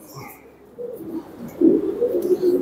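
Racer pigeons in a breeding loft give low, throaty coos that grow louder and more continuous toward the end, heard close and without talk.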